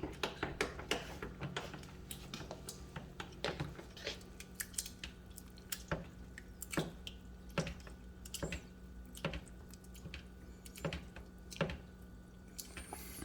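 Chunky salsa is stirred thoroughly in a bowl, giving quiet, repeated wet squelches and soft clicks in an uneven rhythm.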